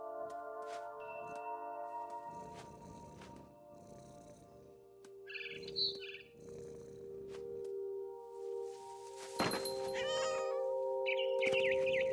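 A cat meows repeatedly in the game What Remains of Edith Finch, with several short cries scattered among ambient music and soft rustling, building to louder, sharper mewls near the end.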